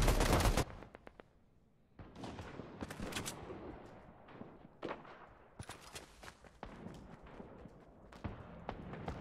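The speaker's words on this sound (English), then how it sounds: "we're getting sniped" Sniper rifle fire in Fortnite during a Battle Royale live event: sharp, loud gunshot cracks come in scattered bursts, a heavy cluster at the start and more reports later, over a busy bed of game noise and clatter.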